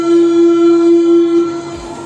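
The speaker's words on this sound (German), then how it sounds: "Schaut mal, hier kommt schon eine U-Bahn." A Berlin U-Bahn subway train arrives at a station, sounding a loud, steady horn-like tone that holds for over a second, then fades as the train's low rumble settles.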